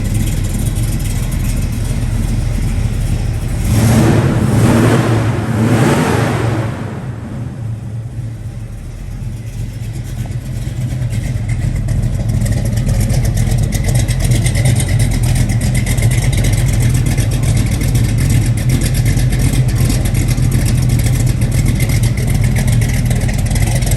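A 1968 Chevrolet Chevelle V8 rumbles loudly close by, revving up in a couple of surges early on, then settling into a deep, steady idle that holds to the end.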